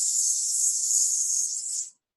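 A person imitates a snake with a steady, sustained hiss for about two seconds, bright and close, ending abruptly in silence.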